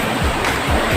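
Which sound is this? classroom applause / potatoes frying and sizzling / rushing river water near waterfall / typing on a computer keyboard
rushing river water near waterfall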